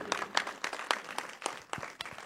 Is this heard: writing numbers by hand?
no